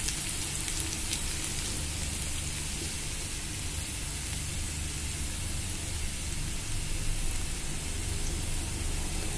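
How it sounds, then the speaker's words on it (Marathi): Garlic sizzles in hot oil in a pan, browning for a prawn masala, a dense, steady crackling hiss that holds evenly throughout with no talk. "लसूण चांगला ब्राऊन होईपर्यंत आपण याला"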